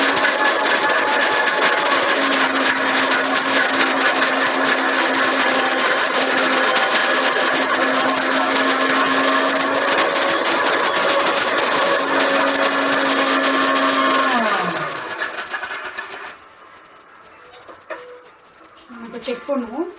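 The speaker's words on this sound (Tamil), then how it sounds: "நல்லா வாஷ் பண்ணி மிக்சியில் போட்டு அரைச்சி வச்சுக்கலாம்" A mixer grinder grinds coconut in its jar with a loud, continuous high whir that runs for about fifteen seconds, then winds down and stops, leaving faint clatter.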